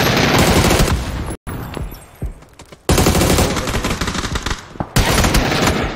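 Rapid gunfire from a video game, dense automatic bursts and single heavy shots filling most of the stretch, with brief gaps between volleys, loud and close.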